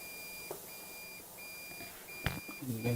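A Pyronix EURO 46 alarm panel beeps after a door is opened, repeating evenly spaced high tones over a quiet room, with a few faint clicks and handling noises near the end.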